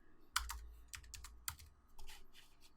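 Short bursts of keystrokes on a computer keyboard while entering a value in Photoshop, close and fairly quiet, a few quick clusters of taps with brief pauses between them and no speech.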